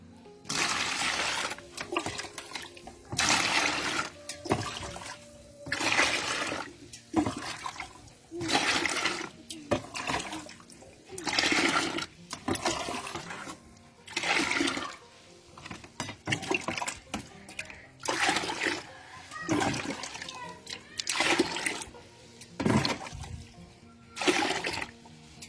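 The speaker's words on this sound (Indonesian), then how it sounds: "saya akan campur dengan 10 bagian air ya." Water being poured and mixed to make homemade organic urea fertilizer, with repeated sloshing, splashing pours in bursts at a regular rhythm, close, and a voice heard between them.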